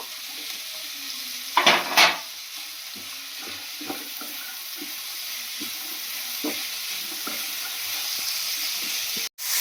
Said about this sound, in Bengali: এটা একটু নেড়ে ছেড়ে ভেজে দিই। এর সাথে কড়াইশুঁটিটাও দিয়ে দেবো।